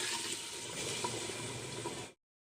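Water poured into a pressure cooker pot for khichda, a steady broadband gush and splash lasting about two seconds before stopping abruptly, close and alone.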